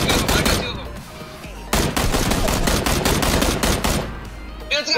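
Gunfire in the battle royale game PUBG rings out in loud, rapid bursts of sharp cracks, with a brief pause partway through before the shooting resumes.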